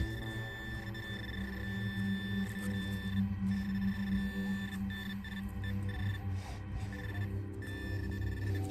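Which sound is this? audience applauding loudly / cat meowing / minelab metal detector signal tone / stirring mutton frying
minelab metal detector signal tone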